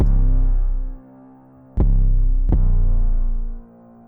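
Deep booming trap beat bass hits with long sustained tails, two strikes close together after an opening boom, heavy and loud with no other sounds.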